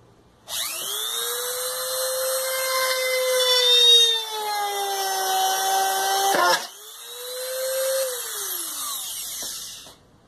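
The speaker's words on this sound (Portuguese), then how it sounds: "Olha o fumaceiro, broca sem vergonha." Power drill with a poor-quality bit boring into a piece of wood, a loud whining tone rising and sagging under load, then briefly stopping and restarting before dying away.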